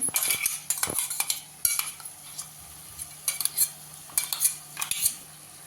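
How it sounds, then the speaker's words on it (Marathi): Crushed garlic and green chilli thecha being sautéed in a pan, with repeated metal spatula clanks and scrapes against the pan over a faint sizzle, close and loud. "ठेचा घातलाय परतून घेऊया"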